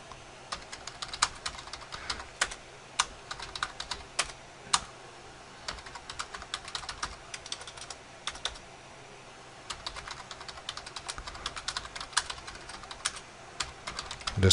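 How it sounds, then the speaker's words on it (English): Rapid bursts of keystrokes clatter on a computer keyboard at a trading desk, irregular clusters of sharp clicks with a short pause midway, close and moderately loud against a quiet room, no talking. "Just typing some things into the room here."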